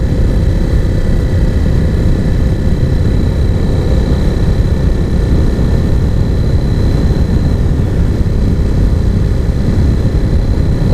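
A Husqvarna Svartpilen motorcycle fitted with an Arrow Dark Thunder aftermarket exhaust, heard while riding: a loud, steady engine drone blended with constant wind rumble that runs unbroken for the whole stretch, with no talking.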